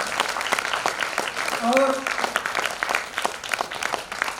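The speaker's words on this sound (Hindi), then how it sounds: "एक बार दोनों हाथ उठा करके भाई अमर, भाई के सिंह के लिए जोरदार तालियां बजाइए इतने सुंदर आयोजन के लिए" Audience applause at a Hindi kavi sammelan of heroic veer ras poetry: a dense, steady patter of many hands clapping throughout, with a voice rising briefly over it partway through.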